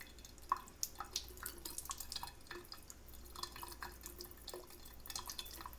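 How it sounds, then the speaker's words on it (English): Tap water running over locally grown mushrooms being washed for a summer salad, heard as faint, irregular drips and soft splashes close by with quiet gaps between them. "I'm going to quickly wash off these mushrooms."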